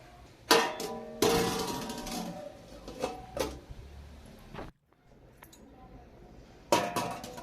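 A metal lid set onto a pot of simmering masoor lentils for a mango dal, several clinks and knocks close by, followed by a quieter stretch and a last few clatters.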